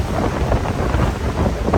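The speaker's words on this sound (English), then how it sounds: "I know it's really windy" Strong gusts of wind on the Maine coast after storms buffet the microphone in a loud, continuous roar, with a low rumble underneath and no voices.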